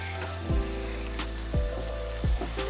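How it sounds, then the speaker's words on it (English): Mushrooms and peas sizzle in hot oil with spices for a vegetarian curry, a steady frying hiss broken by three low thuds of stirring or of the pan being moved. "I'm just going to add the mushroom at this point. I don't want the spices to start burning."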